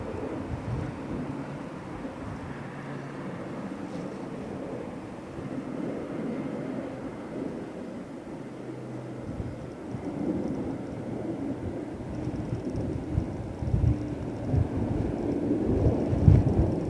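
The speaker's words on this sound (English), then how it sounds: "Is that an A400 over the top of me, Gilly?" An Airbus A400 military transport aircraft passes overhead near London Heathrow with a deep, rumbling turboprop drone that stays steady, then grows slightly louder and rougher toward the end, with wind buffeting the microphone.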